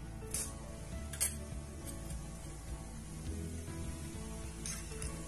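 A spoonful each of mustard and cumin seeds sizzles in hot oil for a Maharashtrian masvadi rassa tempering, giving a steady close crackling hiss with a few sharp pops and utensil clinks, no voices.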